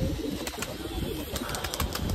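Pigeons settled on a rooftop make soft cooing and fluttering amid steady outdoor background noise, with a few brief sharp bursts, continuous and moderately near.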